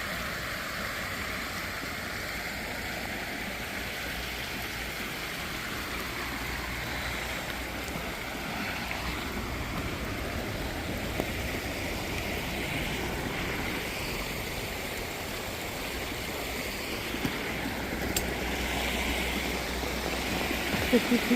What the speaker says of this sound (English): This isn't even supposed to be a creek